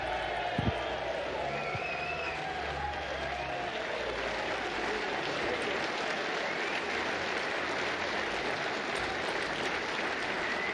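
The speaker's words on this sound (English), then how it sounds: "Once again, a round of applause for both finalists, please." A snooker crowd at the World Seniors Championship 2023 final applauds the winner, sustained dense clapping with some cheering, steady and fairly distant, a brief voice rising over it early on.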